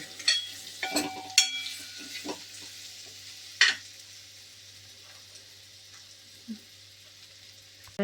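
Mango pieces and chilli powder are stirred in a hot pan for a methi mango pickle, with a few sharp spoon scrapes early on and then a faint, low sizzle with occasional taps.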